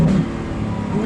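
Mansory Carbonado Lamborghini Aventador Roadster engine under hard acceleration, a loud close droning roar rising in pitch over about a second, with no speech.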